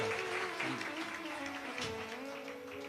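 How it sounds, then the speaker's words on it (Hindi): Applause at a Hindu Shiv Mahapuran religious discourse, steady broadband clapping from a large congregation with a faint tonal hum and possible voices underneath, continuing for about three seconds. "एक बार जोरदार ताली बजाकर साधु"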